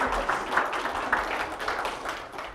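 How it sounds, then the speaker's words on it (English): A live audience claps steadily for a stage performer's trick, a dense, even patter of many hands that stays at one level throughout with no voices on top. "You can clap."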